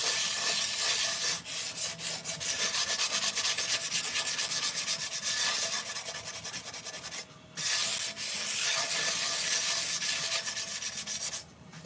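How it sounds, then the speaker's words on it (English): Sanding the bottom of a piece of pottery, a continuous harsh scratchy rubbing close up with brief pauses, steady and loud without any voices. "So first I've got to sand my pottery, specifically the bottom, so I apologize for the sound."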